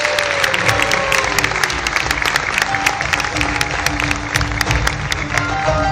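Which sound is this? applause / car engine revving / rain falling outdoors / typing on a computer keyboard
applause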